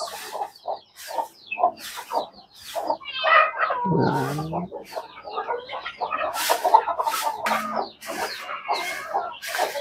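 A chicken clucks repeatedly in short, irregular bursts, fairly close, with a louder squawk partway through.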